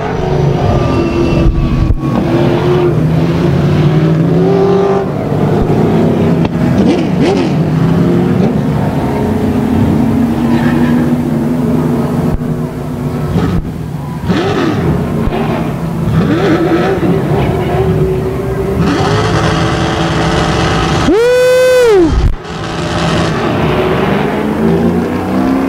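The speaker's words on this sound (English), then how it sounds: "Ricky Bogart putting on a display of driving" Race cars roaring around the Tucson Speedway oval during an outlaw main event, loud continuous engine drone with rising and falling passes, and one sharp, close car sweeping by near the end.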